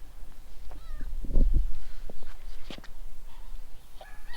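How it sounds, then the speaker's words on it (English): A cat meows several times while someone holds it, giving short, fairly close cries over shuffling and handling noise, with a heavier thump partway through. "Braylee, I got a cat."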